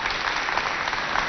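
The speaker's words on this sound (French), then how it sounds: "On applaudit pour Manu." Audience applauding for a child named Manu at a Chadian talent show, a dense, steady wash of many hands clapping close and loud, with no break.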